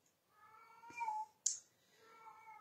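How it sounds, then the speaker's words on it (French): An excited house cat gives two short meows close by, the second sharper and higher, against a quiet room with no talk. "Dès que je commence mon live, mon chat, il s'excite."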